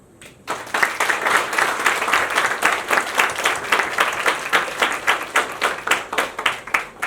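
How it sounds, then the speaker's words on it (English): An audience applauds its institution during a morning gathering, steady clapping starting after a brief pause and holding strong and close throughout, with individual claps pulsing rhythmically through the dense wash. "let us raise our energy levels this morning by clapping for your institution"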